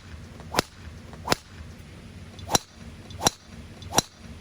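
Five sharp whip-like cracks of a golf club swinging hard through limited flight golf balls, spaced unevenly about a second apart, each brief and loud over faint outdoor background.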